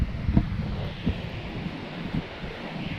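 Wind buffets the microphone with low rumbling gusts and a few soft thumps, continuous and fairly close, with no voices, while fishing at Haslar Wall in the dark.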